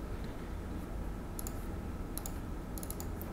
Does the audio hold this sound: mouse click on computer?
yes